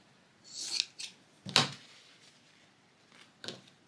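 Scissors cut a strip of fabric scrap, giving a few quiet, close snips and crisp blade clicks spaced across a few seconds, the strongest near the middle.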